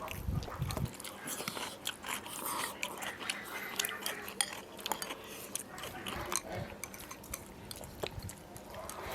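Crunchy biting and steady chewing of small potatoes in spicy minced meat, close to the mouth, with repeated soft bites and faint dish clatter in the background.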